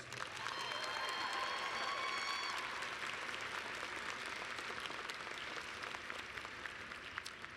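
A law school commencement audience giving a round of applause to an honoree, a dense, even wall of clapping that stays strong throughout, with brief cheers and a whistle early on.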